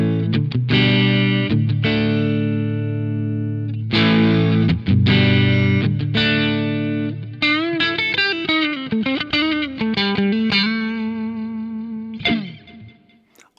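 An electric guitar plays through a clean tube amp with the gain set at the edge of breakup and delay and reverb added, strummed chords then single-note runs and bends, loud and alone, ending on a fading note.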